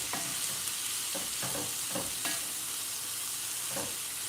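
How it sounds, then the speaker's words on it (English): Vegetables sauté in a hot pan for vegan fried rice, a steady close sizzle broken by several scraping stirs of the spatula, with no talk. "I'm going to start sauteing this first."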